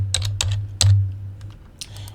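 Typing on a computer keyboard, a few crisp key clicks in an uneven rhythm over a steady low electrical hum, close and moderately loud with no talk.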